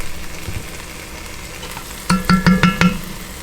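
Sofrito dropped into a hot pot for a Caribbean-style stew beef, bursting into a loud, crackling sizzle with several sharp spits and pops after a quiet start, heard close and without talk.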